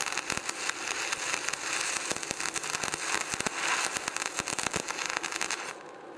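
Rapid irregular crackling and popping from a stick electrode welding arc held too long, dense and continuous, fairly loud, ending abruptly near the close.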